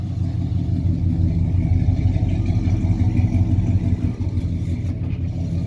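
A 1968 Pontiac 400 V8 fitted with Flowmaster Delta 40 Series mufflers idles with a steady, deep, slightly uneven rumble, close and continuous throughout with no voices.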